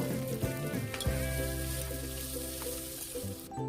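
Sliced onions sizzle loudly in hot oil in a pan for a Kerala-style chicken curry, a dense, continuous frying hiss with a couple of brief stirring scrapes before it cuts off abruptly.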